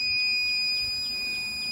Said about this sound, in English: the battery, the tester is beeping at me.